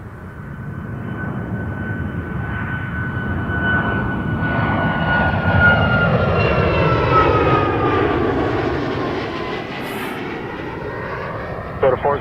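A heavy jet airliner roars steadily at Toronto Pearson Airport, its loud broadband engine noise swelling as it passes and shifting in pitch, with faint talk under it.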